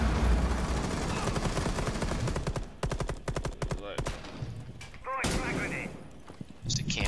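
Rapid gunfire from the tactical shooter video game Rainbow Six, with dense bursts and a run of evenly spaced shots, then sharper scattered reports and a brief electronic tone.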